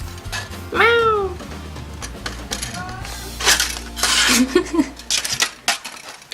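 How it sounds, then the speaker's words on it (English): A pet cat meows loudly indoors during a DIY pen-and-can craft session, with several rising-falling cries near the start and again around the middle, alongside clinks and rustling of materials. "Can you hear my cat screaming?"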